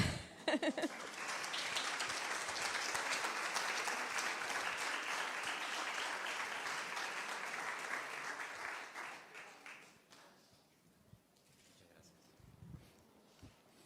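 An audience at a talk applauds loudly for about ten seconds before the clapping fades away into quiet.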